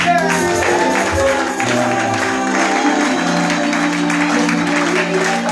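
A church congregation claps together loudly and continuously in a sustained burst of applause, with voices mixed into the crowd noise.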